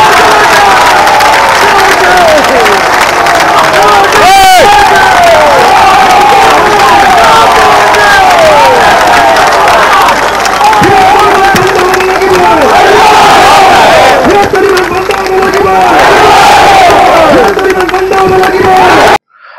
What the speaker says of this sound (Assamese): সকলোৱে একেলগে হাত তালি